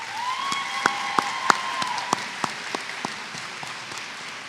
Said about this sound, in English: please have a round of applause for your teaching staff